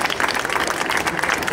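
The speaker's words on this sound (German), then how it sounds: "einen großen Applaus für unsere Bash Loonies von der Tanzschule Bruckner." A crowd at an outdoor market Sunday show claps for a dance school troupe, a brief burst of dense, close applause.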